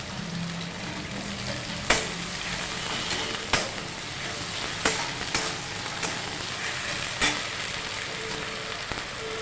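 Chopped tomato and onion fry in a pan with a steady, close sizzle, broken every second or so by sharp clacks and scrapes as the mixture is stirred.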